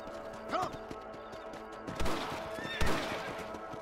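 Horse whinny in the Red Dead Redemption Xbox 360 video game: a short neigh near the start, then heavy impacts and crashes with further whinnying sounds, all fairly close and over a low game backdrop.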